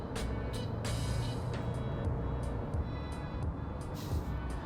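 A BAIC X55 Facelift with a dual-clutch transmission pulling away in sport mode, its engine note steady and moderately loud from inside the cabin, with a few brief clicks over the hum.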